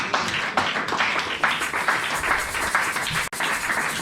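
A church congregation claps and applauds in praise of the Lord, steady dense clapping that fills the room and holds at an even level throughout, with no voices standing out.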